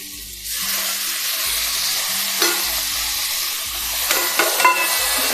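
Tomato going into a hot pan of chili thecha and sizzling loudly, a strong steady frying hiss with occasional spatula scrapes and clinks as it is stirred.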